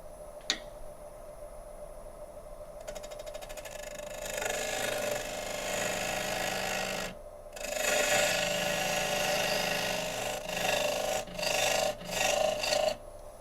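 Wood lathe gouge cutting a tenon on a spinning burl bowl, a rasping scrape in steady bursts with brief pauses over a constant motor hum, following a sharp click at the start.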